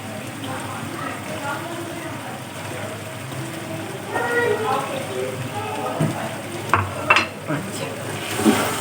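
Curry leaves, green coriander and green chillies fry in oil in a karahi while being stirred, soft sizzling crackle with scraping stir strokes that grow louder midway, a few sharp clinks of the spoon against the pan.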